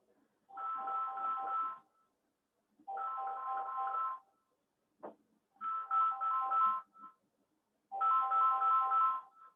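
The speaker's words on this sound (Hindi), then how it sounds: "एक फोन आ रहा है।" A phone ringtone plays an incoming-call melody in four evenly spaced electronic bursts, each a little over a second long, separated by silence with a brief click in between.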